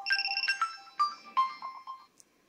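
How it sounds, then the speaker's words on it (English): Alarm ringtone on a Windows 10 phone, a bright repeating melodic chime of several tonal notes that rises and falls, then fades out at the end, heard clearly without talk. "So for instance, if you have an alarm set,"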